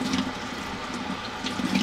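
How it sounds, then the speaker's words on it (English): Water gushes steadily from the active water jet of a Samsung WA50R5200AW top-load washing machine, a close, continuous rushing spray with no voices. "Water coming out."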